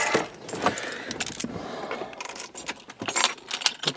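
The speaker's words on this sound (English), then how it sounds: "Too many pairs of keys in my pocket" Several sets of keys jangle in a pocket beside a Honda Pilot, bursts of bright metallic clinking that come and go with movement, close and clear with no talk.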